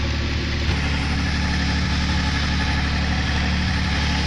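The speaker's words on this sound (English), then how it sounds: "Oh no, that leak is causing it to idle pretty roughly" A Nissan Altima SE-R engine idles roughly because of a leak, giving a steady, loud, close rumble with a slight uneven throb that holds throughout and has no talking over it.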